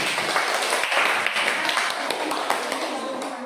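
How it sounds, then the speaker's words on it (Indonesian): Classmates in a classroom clap for a fellow student, a dense steady patter of hand claps close by that holds through and fades slightly at the end, with some voices mixed in. "berikan tepuk tangan untuk teman dulu"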